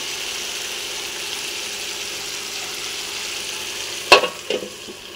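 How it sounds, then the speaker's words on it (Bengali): Meat frying in a pan gives a steady, fairly loud sizzle, broken near the end by a few sharp scraping clatters as it is stirred. "মাংসটাকে ভালো করে নেড়ে নেব"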